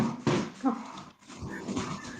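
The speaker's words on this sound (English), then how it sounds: "When somebody rang the doorbell. Oh, so dogs starts going crazy" Dogs indoors react after a doorbell, with close whimpering, growly yips and short excited vocal bursts in two clusters separated by a brief lull.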